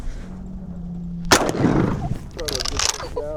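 A loud shotgun blast aimed at pigeons over cows on a dairy farm cracks out after a steady low hum, followed by noisy rustle and some chirpy calls.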